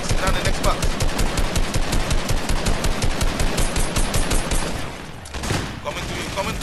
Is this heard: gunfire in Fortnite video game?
yes